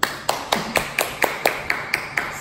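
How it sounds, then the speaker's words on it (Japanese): Steady claps, about ten, evenly spaced and crisp, close up and alone with no talk over them. "拍手拍手。"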